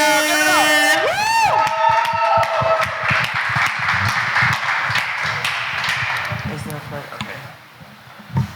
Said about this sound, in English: give a round of applause for Nismo We Spinning